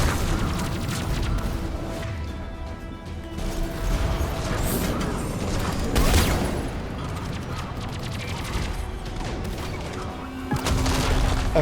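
Rapid gunfire from the player's weapon in the Mass Effect 3 shooter, sustained bursts with booms and mechanical clatter over dense battle noise for most of the clip, no talk.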